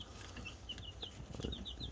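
Young chicks in a brooder give repeated high, thin peeps, several short cheeps scattered over a low background rumble, fairly close and steady.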